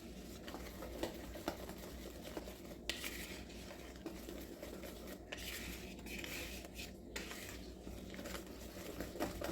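Cornmeal batter being stirred in a bowl for buttermilk cornbread, a steady soft scraping and clinking of utensil against the bowl running throughout, with brief brighter bursts of scraping along the sides.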